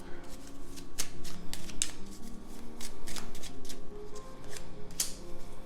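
Tarot cards being shuffled by hand, a run of crisp riffles and snapping flicks at irregular intervals, close and fairly quiet, with no talking.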